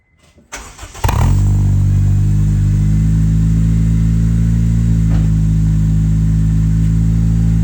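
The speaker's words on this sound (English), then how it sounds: "I'm gonna start the car and let's take a look at what that sounds like" An Acura RSX engine with a Spoon N1 sub silencer exhaust cranks and catches, then settles into a loud, steady idle with a smooth, muted exhaust drone.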